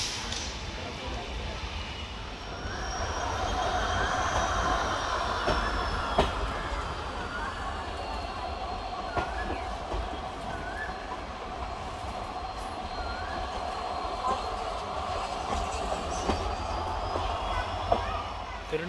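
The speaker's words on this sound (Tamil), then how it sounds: "திருநெல்வேலி டவுன் ரயில்வே ஸ்டேஷன்லேருந்து நம்ம ட்ரெயின் கிளம்பிடுச்சுங்க." Tirunelveli–Sengottai unreserved express pulling out of Tirunelveli Town station, a steady rumble of wheels on rails with faint squeals and clicks over about nineteen seconds, while someone speaks over it.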